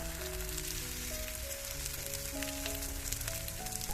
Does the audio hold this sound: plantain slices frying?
yes